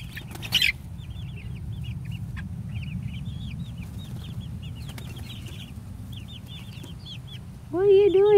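Four-week-old Ameraucana chicks chirping and peeping in short bursts over a steady low background hum, with a brief loud bump early and a louder voice-like call near the end.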